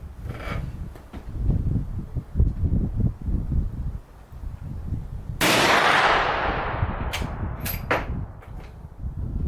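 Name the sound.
gunshots from a Vetterli 10.4x47 rifle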